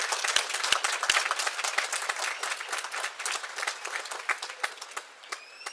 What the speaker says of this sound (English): I want to give them another round of applause in significance of their amazing achievement